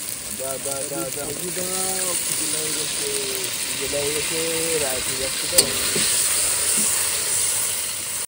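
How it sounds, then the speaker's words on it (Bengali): Curry broth with potatoes boils in a pot at a riverside cooking spot in the Sundarbans, giving a steady bubbling hiss throughout. Someone talks over it in the first half, and one sharp click sounds near the end. "তরকারির ঝোল ফুটে গেছে"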